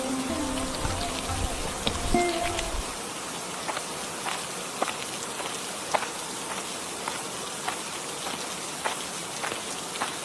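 Steady rain patters on surfaces in a Bengali cartoon village scene, a dense hiss dotted with sharper drips. A brief low thud sounds near the start, then the rainfall continues evenly and alone.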